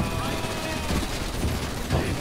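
Rapid gunfire from a shooting fight in GTA V, a dense continuous rattle of shots filling the whole stretch at fairly close range, with no voice over it.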